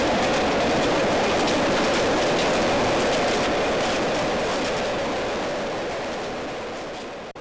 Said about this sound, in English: riding a narrow gauge train in Poland